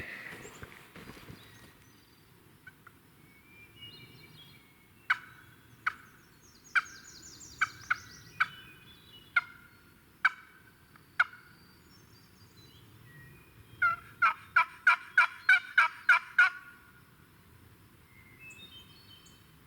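Wild turkey gobbling outdoors in Maine during spring, heard from a distance across fields: two bursts of rapid, rattling gobbles, the second a quick repeated series, clear above soft background noise.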